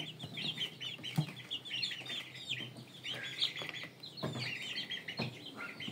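Several Indio Gigante chickens cluck and chatter continuously at close range, a busy, uneven stream of clucks with occasional sharper calls.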